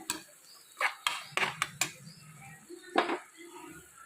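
Soya biryani masala with curd being sautéed in a pan, a few sharp clinks of a metal spoon against the pan over a faint low sizzle, with no voices.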